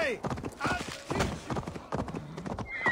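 Horse hooves clip-clop in a steady riding rhythm in Assassin's Creed Valhalla, with a brief whinny near the start, fairly close and clear, under someone talking.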